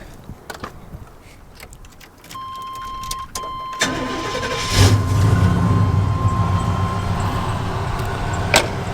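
A 454 Silverado pickup with a Flowmaster exhaust starts up and settles into a loud, deep idle nearby after some earlier clicks and handling noises, with a thin steady whine running beneath.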